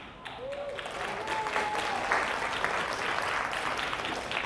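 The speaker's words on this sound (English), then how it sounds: "you can give us a big round of applause" Applause from the crowd at a fundraiser breakfast marking Nourish Phoenix's 40th anniversary, a dense, even wash of clapping that swells early and holds steady, with brief voices heard faintly beneath it.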